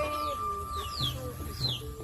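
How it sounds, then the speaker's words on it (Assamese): Chickens and ducks kept at a rural homestead, with a few short clucks and calls close by over low background murmur across two seconds. "আকৌ হাঁহ মুৰ্গীবিলাক ইয়াতে আছে।"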